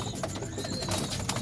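Domestic pigeons coo and call while feeding on wheat at night, a dense layered chorus of soft throaty coos close by, continuous over a low background hum.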